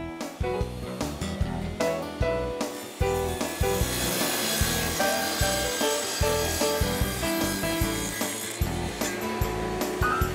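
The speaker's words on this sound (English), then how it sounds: "then cut the panel on the table saw" A table saw rips through a flooring panel, the blade whining and cutting in repeated strokes with sharp pulses as the board feeds through, loud and close with no talking.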